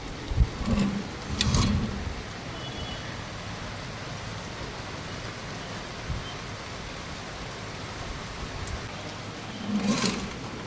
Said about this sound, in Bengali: কি জোরে বৃষ্টি হচ্ছে বলো তো